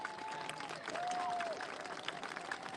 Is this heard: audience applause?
yes